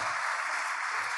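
Applause from a church congregation fills the space with a dense, even wash of clapping, steady and moderately loud with no voices on top.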